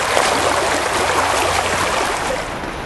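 A salmon-filled river rushes steadily, a broad continuous wash of flowing water heard close and fairly loud throughout, with no voices.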